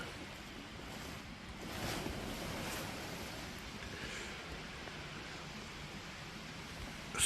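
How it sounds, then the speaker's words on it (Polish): Steady outdoor wash of water in a forest with mountains nearby, like surf or a flowing stream, with breezy rumble throughout and no voices. "słychać wodę."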